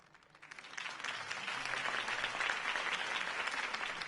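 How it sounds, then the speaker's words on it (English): A cartoon crowd bursts into applause for a mayoral campaign speech, swelling after a quiet half-second into steady, dense clapping that holds loud throughout. "If only Mr. Wayne, my campaign's largest backer, could have heard that applause"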